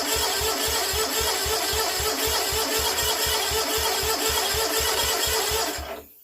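An old Kohler twin engine cranks over after a valve job and service, with a loud, steady rhythmic churning that pulses several times a second and then cuts off abruptly at the end, with no talking.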